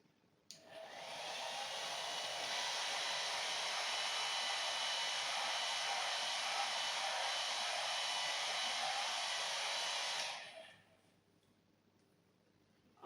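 A hair dryer blows steadily on hair for about ten seconds, a constant close whooshing whir that starts abruptly and cuts off cleanly, leaving near silence.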